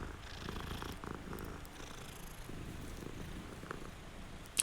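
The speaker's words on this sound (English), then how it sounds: "Oh, there's a cat right here." A cat purrs in the video game Hogwarts Legacy, a soft, continuous low rumble running steadily under faint ambient game sounds, close and even throughout.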